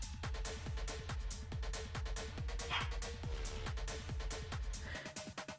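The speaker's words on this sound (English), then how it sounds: "That's Jack, my puppy" Puppy whimpering with small yips and barks, fairly faint beneath a steady rhythmic thumping background, with high whines rising briefly in the middle and near the end.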